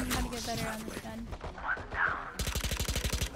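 Sheriff revolver fire in Valorant, several sharp shots spaced early on, then a quick run of rhythmic impacts near the end, all close and loud, mixed with other game sounds and brief talk.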